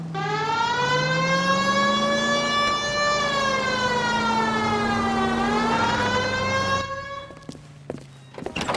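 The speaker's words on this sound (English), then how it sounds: "Hit the siren." A police car siren in the video game L.A. Noire wails loud and steady in rising and falling sweeps for about seven seconds, then cuts off, leaving quieter engine and street noise.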